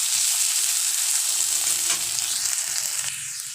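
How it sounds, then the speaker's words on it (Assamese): Boiled potato pieces fry in hot oil in a wok with a steady close sizzle and light crackle, easing slightly toward the end with no talking. "এইটো মই অলপ ভাজি ল'ম। আলুখিনি অলপ ৰঙাকৈ ভাজি ল'ম।"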